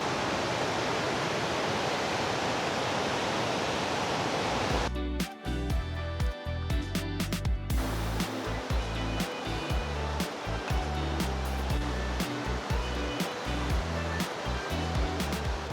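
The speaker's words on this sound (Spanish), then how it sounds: "Está ahí la cascada y por acá el río." Small waterfall and river near Whittier, Alaska: a steady broadband rush of falling water, then a nearby stretch of clattering and knocking over the continuous roar, which stays close and fairly loud throughout.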